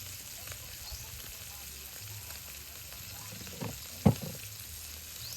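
Onion frying in a pan, a faint steady sizzle close by with one brief louder knock near the end.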